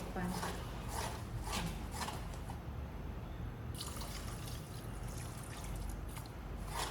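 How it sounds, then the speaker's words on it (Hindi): Water trickles and splashes steadily as it is poured into sugar in a pan to make syrup for mohanthal, a faint continuous pour with a brief lull partway through. "तो पानी भी मैं यहाँ पे मेजर करके ही ऐड कर रही हूँ।"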